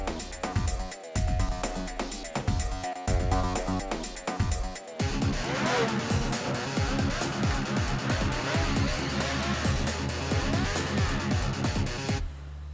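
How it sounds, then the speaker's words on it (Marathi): A car driven recklessly in an action thriller, its engine revving with brief tire squeal, heard under loud, driving music for the whole stretch. "अरे हे काय? कशी गाडी चालवतात ही मुलं?"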